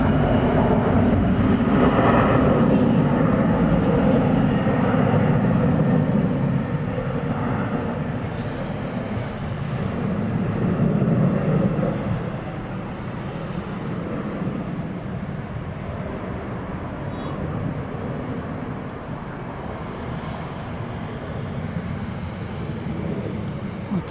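An airliner arriving from Oklahoma City at DFW Airport at night, its engines a broad roar that is loudest at the start, swells again around the middle, then fades to a lower steady rumble.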